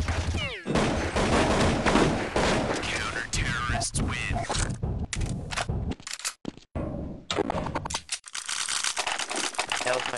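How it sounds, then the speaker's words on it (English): Video-game gunfire tears through a wall in rapid, crackling bursts that run densely for several seconds before breaking into scattered shots, with voices talking over it. "I heard him trying to shoot through the wall"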